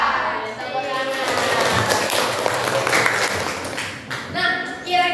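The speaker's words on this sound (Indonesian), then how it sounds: "Tepuk tangan." A classroom of vocational high school students applauding, a dense burst of clapping that holds steady for several seconds and then tapers off.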